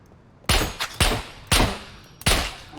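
Four loud gunshots from the video game SCUM ring out close by at roughly half-second to one-second intervals, each a sharp crack with a short decaying tail, with no talk over them.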